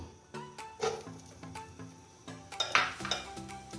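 Coconut and semolina dry-roasting in a pan, heard as repeated scraping and clinking of a spoon against the metal pan at an uneven stirring rhythm, with little sizzle and no voices.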